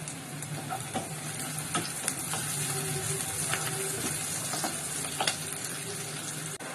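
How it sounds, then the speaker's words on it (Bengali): Onions frying in a pan for a korma, with a steady bright sizzle and frequent scraping clicks of stirring, continuous and fairly close throughout. "এইখানে আমি পেঁয়াজটা আগে ভেজে নিচ্ছি"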